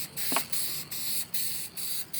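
An aerosol can of clearcoat sprays in a series of short hissing bursts, close and steady, separated by brief pauses.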